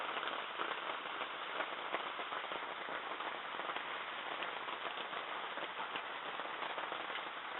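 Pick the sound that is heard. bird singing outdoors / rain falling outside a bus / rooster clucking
rain falling outside a bus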